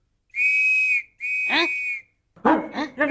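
A whistle is blown to chase someone away in a Tamil comedy scene: two long, steady, shrill blasts, then short barking-like bursts at the end.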